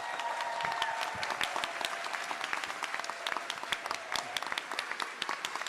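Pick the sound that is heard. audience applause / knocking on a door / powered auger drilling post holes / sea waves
audience applause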